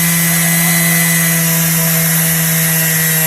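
A loud, steady high-pitched whine of a power sander grinding on an alloy wheel rim, continuous and close, with no voices.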